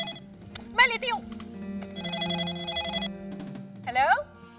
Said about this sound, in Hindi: साहिल, गुरिंदर मौसी का फोन